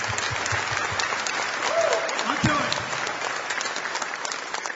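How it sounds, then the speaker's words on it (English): Audience at a college football signing day luncheon applauds the offensive coaching staff, steady dense clapping filling the room throughout, with a brief spoken voice partly audible over it. "Now we can clap. Let's have for the offensive staff."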